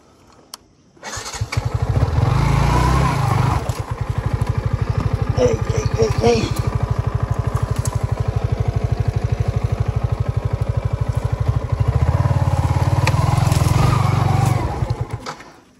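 A Yamaha MT-15 motorcycle revs hard off-road as its rear tyre spins and slips, making a loud, close, pulsing engine drone that holds steady for more than ten seconds before dying down.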